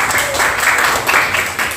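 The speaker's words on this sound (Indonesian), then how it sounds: "Kasih tepuk Iqbal dong." Classroom applause for a student called to the front, a dense steady patter of many hands clapping for under two seconds, with a little talk mixed in.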